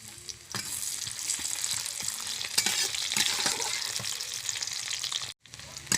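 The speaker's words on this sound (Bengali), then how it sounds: "তেল গরম হয়ে গেছে, এবার পেঁয়াজ কুচি দিয়ে দেবো।" Chopped onion hits hot mustard oil for a mushroom dish and fries with a loud, steady sizzle and crackle, broken by a few stirring scrapes and a brief dropout near the end.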